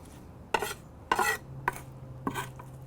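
Four brisk bursts of a utensil stirring and scraping in a dish as a red wine vinegar, lime juice and olive oil marinade for grilled hanger steak is mixed, close with a faint steady hum beneath.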